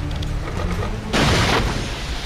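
A firecracker goes off in Jak & Daxter: The Lost Frontier on PSP, a sudden broad burst of noise that swells over the game's continuous music and effects and fades within about half a second.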